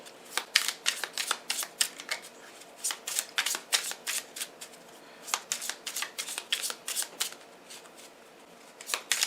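Tarot cards being shuffled and drawn, rapid crisp riffling bursts repeating in an uneven rhythm, close and fairly quiet with no talking.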